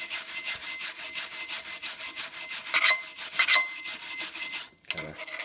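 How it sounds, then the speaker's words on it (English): A wire brush scrubs slag off fresh flux-core welds in steady, rapid back-and-forth strokes, close and harsh, with a short pause near the end before a few lighter strokes. "if I just grab a wire brush here, if you just brush up the welds"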